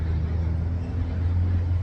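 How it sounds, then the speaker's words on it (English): Steady outdoor traffic rumble from passing road vehicles, a low continuous drone beside a backyard barbecue on a hot day, heard alone without talk. "We've got traffic sounds out here"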